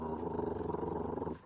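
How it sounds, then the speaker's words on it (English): A pit bull gives a low, steady growl close by, a continuous rumbling snarl lasting over a second before trailing off, with no voices over it. "she lets out a little growl"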